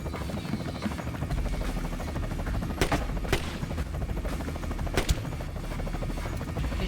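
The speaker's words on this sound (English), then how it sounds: "He's shooting at nothing." Gunfire in the video game Splinter Cell: Chaos Theory, a few sharp, loud shots ringing out over a constant low rumbling drone, with the bursts landing irregularly.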